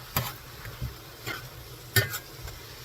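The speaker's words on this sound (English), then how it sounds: "And then I will stir this up." Stroganoff ingredients are stirred in a cast iron skillet, giving a few scattered scrapes and clinks of a utensil against the pan over a faint sizzle, close and quiet.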